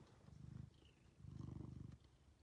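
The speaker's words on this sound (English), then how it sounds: "Oh, he's purring away." A cat purrs softly and close by in two rhythmic, rumbling stretches with a short pause between them, no talking.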